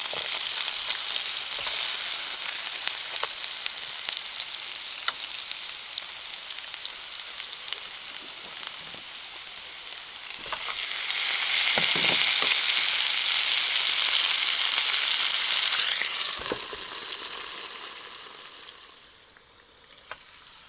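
Food sizzles steadily in a pan at a riverside tent camp for a long stretch, the crackle swelling louder midway with a few clinks, then easing off near the end.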